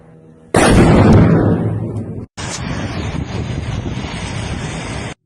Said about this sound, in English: A series of explosions in Russia.